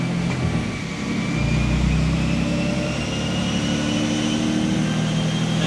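A 2JZ-powered Lexus SC300 with its factory five-speed in third gear runs on a dyno, a steady loud engine drone with a faint high whine and a slight swell in level after the first second, no voices.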